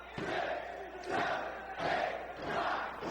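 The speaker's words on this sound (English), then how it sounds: "The crowd counting along." Wrestling arena crowd at an indoor pro wrestling show chants in loud rhythmic bursts, roughly four swells in three seconds, counting along in unison with repeated elbow strikes.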